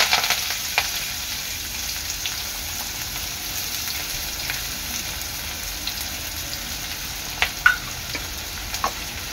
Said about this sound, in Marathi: आता इथे तेल चांगलं गरम झालेलं आहे, त्यामध्ये टाकते मी कढीपत्ता आणि कांदा।